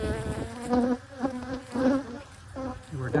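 Honey bees buzz close by near a hive, a steady droning hum that swells and fades in short waves, with no voices.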